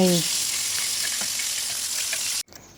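Fish fries in a wok of hot oil with a dense, even sizzle and a few faint scraping turns, then the sizzle cuts off abruptly near the end and only a quieter clatter follows.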